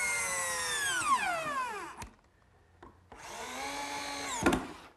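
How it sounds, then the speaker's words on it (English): A power drill drives screws to fasten a woodworking cabinet's top assembly, giving two close, loud whining bursts whose pitch sweeps downward as each screw seats, separated by a short quiet gap with light clicks. "this top assembly gets fastened to the cabinet with screws"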